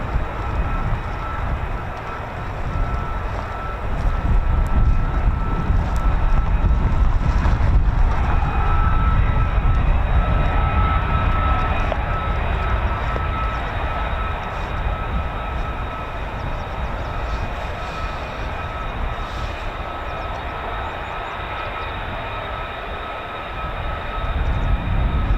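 A distant F-86 jet roars past in a long, continuous, broadband rumble that swells over several seconds and then slowly fades away.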